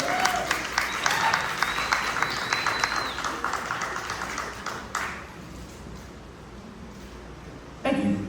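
An audience at a local business presentation for a blues festival applauds, a steady dense patter of many hands with a few whoops for about five seconds, then fading to a quieter murmur before a brief final burst.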